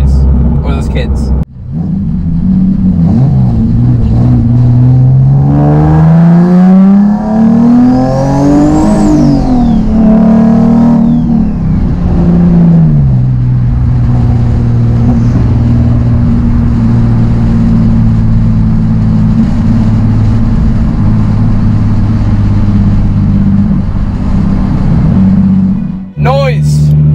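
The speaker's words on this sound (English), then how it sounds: "This car is so loud." A loud Nissan 370Z/350Z sports car engine drones steadily nearby, its pitch climbing and falling through a rev before settling into a rough, sustained idle.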